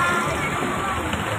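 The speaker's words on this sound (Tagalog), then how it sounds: "Papuntang ilog na yan. Papuntang creek na yung baha." Steady rushing floodwater flows continuously toward a creek in Cogeo, a broad churning wash with a faint murmur of voices in the background.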